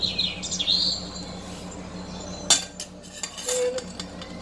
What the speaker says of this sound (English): Birds are little chatterboxes today.